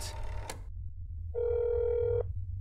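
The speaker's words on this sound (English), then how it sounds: "I gotta make a phone call." Telephone ringing in a video game during a phone call: a single clear electronic ring tone lasting under a second, following a brief click and quieter handling noise, over a steady low hum.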